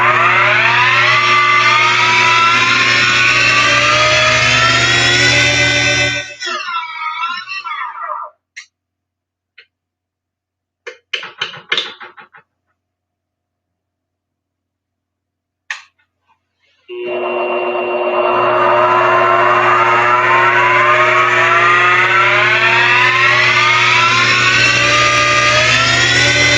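A sawmill engine revs hard to a high, steady whine, then cuts out into near silence broken by a few clicks and knocks, and finally spins back up to a loud, sustained racing pitch.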